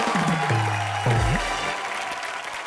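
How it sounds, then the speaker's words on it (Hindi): Studio audience applause on a Hindi entertainment show stage, broad steady clapping throughout, with a swooping musical or sound-effect tone over it in the first second and a half. "तो सबसे पहले उसके लिए तालियां."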